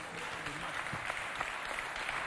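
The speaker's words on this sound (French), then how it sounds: "On applaudit" An audience applauds at a youth cultural center quiz event, a faint, distant patter of many hands clapping steadily throughout with slight murmurs.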